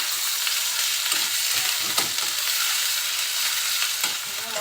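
Ground spices with ginger and cumin paste fry in oil in a pan for a fish and pumpkin dish, giving a steady close sizzle with a few soft stirring scrapes throughout.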